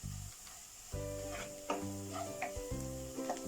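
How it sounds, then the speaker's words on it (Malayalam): Sliced onion sautés in a pan while a utensil stirs and scrapes it, a soft steady sizzle broken by several short knocking strokes, all close and fairly quiet. "ഇപ്പോൾ സവാള ഒന്ന് വഴണ്ടി വന്നിട്ടുണ്ട്"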